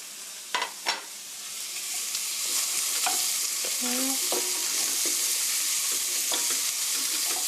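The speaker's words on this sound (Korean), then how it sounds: "양파가 살짝 익을 때까지만 어, 2 m 2분 정도 볶아주세요" Sliced onions being stir-fried in a pot after chili powder: a steady, close sizzle with a few clinks of a utensil stirring.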